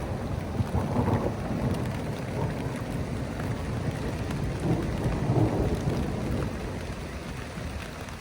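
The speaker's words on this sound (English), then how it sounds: "Storm is rolling in." A thunderstorm rolls in with steady rain and low, rumbling thunder swelling and fading throughout, with no one speaking.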